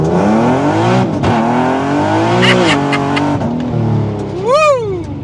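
A supercharged Nissan 370Z engine revs hard and loud, its pitch climbing and falling in several sweeps, with a sharp final rise and drop near the end.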